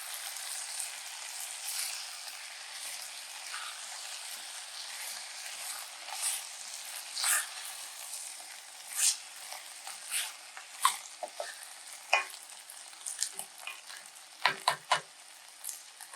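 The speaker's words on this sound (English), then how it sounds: "Now we let this here saute up together for about a minute." Chopped tomatoes and peppers sautéing together in a pot for beef goulash: a soft, fairly distant sizzling hiss with scattered scrapes and taps of stirring that grow busier toward the end.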